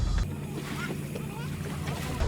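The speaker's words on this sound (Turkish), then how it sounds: "Teknemiz kıyıdan ayrılıyor. Geri vitese taktı kaptan." A tour boat in Thailand carrying seventeen people reverses away from the shore, its engine a steady low rumble with water wash throughout, and voices are heard faintly underneath.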